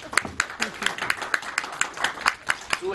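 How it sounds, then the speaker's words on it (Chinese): Applause closing a legislative committee meeting: a small group claps in a brisk, regular rhythm of sharp, close hand claps for about three seconds. "我们给所有委员热烈掌声"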